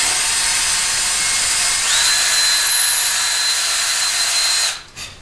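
A small power tool bores a hole into a handmade craft piece with a close, steady high-pitched whine that holds for several seconds, then winds down abruptly.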